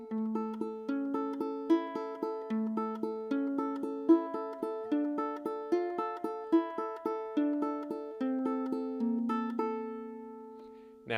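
Plucked ukulele notes from Malagueña in a steady flowing pattern, a melodic passage over repeated low notes, played solo and close with a clear bright tone.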